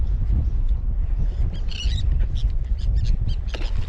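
Birds squawk and chirp in short bursts above a steady low rush of wind and water along a fishing edge in dirty water, the calls fairly close and scattered throughout.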